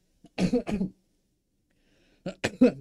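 Two short bursts of coughing, a double cough followed by a pause and then another pair, close and clear with silence around them.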